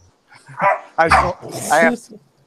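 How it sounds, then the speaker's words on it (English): Several dogs play fighting close by, giving short barks and yips in quick bursts over about two seconds. "Yeah, those are my dogs. They're play fighting."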